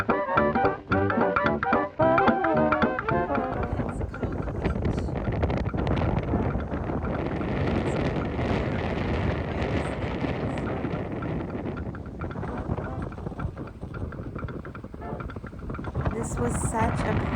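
Strong wind on a white-sand beach near Pensacola, Florida buffets the microphone in a constant roaring rush, with a voice speaking briefly at the start.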